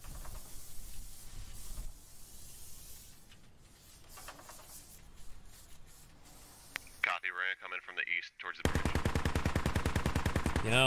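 Heavy machine gun fire from a BTR armored vehicle in the Squad video game, quiet game ambience giving way to loud, rapid bursts near the end, with a voice talking early on.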